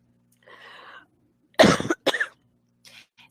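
A person coughs sharply twice, close and loud, after a faint murmur, then a few quiet breaths follow.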